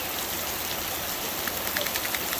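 Heavy outdoor rain with large drops falling in a summer downpour, a dense, steady hiss of water striking surfaces, with sharper individual splats popping out near the end.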